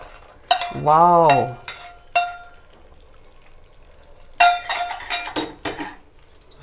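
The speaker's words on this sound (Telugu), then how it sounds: "ఇప్పుడు మనం జీడిపప్పు, కొబ్బరిలు, కిస్మిస్లు ఇవన్నీ నెయ్యిలో చూడండి ఎంత బాగా ఇవన్నీ చక్కగా వేసుకుందాం" Metal spoon clatters and scrapes in a pan while cashews, coconut and raisins fry in ghee, a few sharp clinks and bursts of stirring separated by quieter gaps, with an exclamation in a voice and a short harmonic tone over it.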